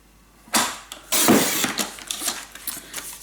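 Paper being cut for a scrapbook mini album, a few close crisp slicing strokes separated by short pauses, with no talking.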